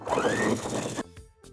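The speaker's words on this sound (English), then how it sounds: "Remove your pins as you get to them, and just continue working all the way around, stretching and sewing." A sewing machine runs fast and steadily while stitching a stretched elastic waistband onto fabric, a loud continuous whir for about a second, then stopping, with a couple of small clicks and a brief restart.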